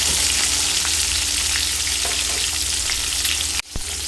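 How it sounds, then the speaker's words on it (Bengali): Pieces of katla fish fry in a pan of oil with a constant dense sizzle and crackle up close, then a brief sharp knock near the end. "একটু হালকা 2 পিঠ ভেজে আমি মাছগুলো নামিয়ে নেব।"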